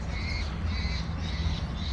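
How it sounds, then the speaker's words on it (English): Crow-like birds caw outdoors, a few repeated harsh calls at moderate distance over a steady low background rumble. "You can hear birds from view."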